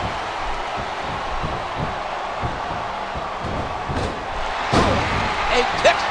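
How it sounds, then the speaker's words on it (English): Wrestler body slams in the SmackDown vs Raw 2009 video game: repeated dull thuds on the mat under arena crowd noise and commentary, with a sharper slam near the end. "the sound of human flesh on the ground echoes around the arena."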